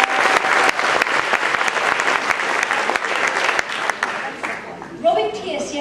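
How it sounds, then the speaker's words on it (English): Sustained audience applause at a speakers' association award event, dense crowd clapping filling the room before tapering off, with a few voices and cheers rising near the end. "so let's give them a big round of applause"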